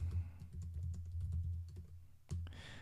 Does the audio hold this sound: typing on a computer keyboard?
yes